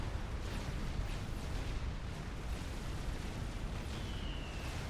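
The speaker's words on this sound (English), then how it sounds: "Another nuke firing." Nuclear missile explosion in the Supreme Commander strategy game, a broad rumbling blast that rolls on steadily at moderate loudness without talk.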